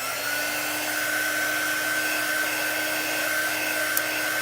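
A hair dryer blows steadily on chalk art, a constant broadband whoosh with a fixed motor hum, close and loud throughout with no talking.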